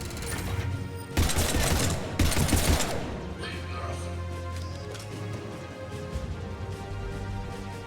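Gunfire in the video game Mass Effect 3, two loud bursts of rapid automatic shots early on followed by lighter scattered shots and mechanical noise, with someone talking over parts of it.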